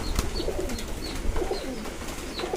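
Fancy pigeons in a loft coo in soft, repeated low rolling calls, with several birds overlapping at close range against steady background noise and a few brief higher chirps.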